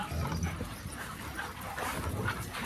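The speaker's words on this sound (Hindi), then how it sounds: "ये गुर्राते जाता है और मिलते जाता है" A German Shepherd dog making low growling and whimpering sounds, close and fairly loud, with yips and panting mixed into a noisy outdoor background.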